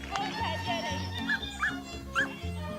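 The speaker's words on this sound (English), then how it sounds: "Pumis make good herding dogs because they can run extremely fast" A Pumi herding dog near a sheep pen gives short yips and whimpering barks in a rhythmic series, fairly close, mixed with other low background sounds.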